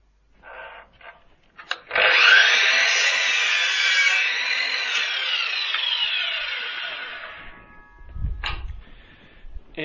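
A power saw cuts a wooden board at a 45-degree angle while building a vertical vegetable planter, a single loud sustained whine of about six seconds with brief blade spin-up before and a clunk after.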